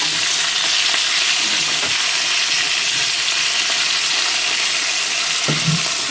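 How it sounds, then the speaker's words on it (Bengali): Fish head and tail frying in hot oil in a home kitchen, a loud, steady close-up sizzle with occasional spatters and faint stirring throughout. "মাছের মাথাটা ভাজা হচ্ছে"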